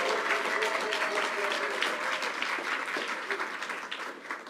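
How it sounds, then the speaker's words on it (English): An audience at an event on combating hate applauds a guest, a continuous wash of clapping, fairly even and moderately loud, slowly easing toward the end. "Let's give a huge round of applause to my friend"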